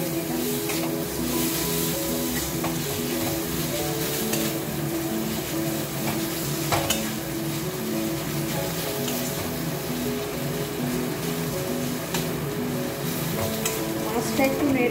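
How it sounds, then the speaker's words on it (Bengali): Boiled, deboned rohu fish is stirred in a wok with spices, giving a continuous bright sizzle of frying punctuated by scraping turns of the spatula. "মাছটা একটু নেড়ে চেড়ে নিয়ে"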